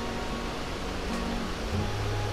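Bogatha Waterfalls in Telangana pour with a constant broad, hissing roar, moderately faint and unbroken, with no voices over it.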